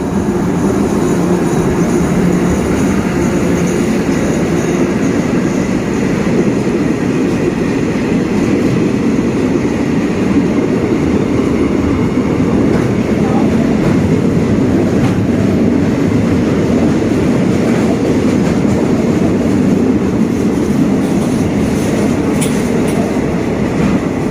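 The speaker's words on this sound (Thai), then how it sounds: "แม่มีรถไฟมาพอดีเลยนะครับ" A passenger train rumbles past nearby in Ratchaburi, Thailand, loud and continuous, a heavy low roar with steady rattling wheels that holds throughout.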